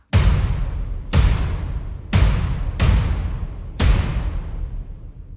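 Five big, spaced-out hits from an epic percussion library boom out one after another, each a heavy, loud drum impact with a long, decaying rumble.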